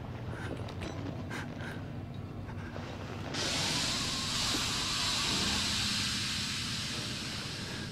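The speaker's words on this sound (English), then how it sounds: "Yikes, bloody steam." Steam hissing in the video game Outlast: a broad, loud hiss bursts in partway through and holds steady over a low mechanical rumble and creaks.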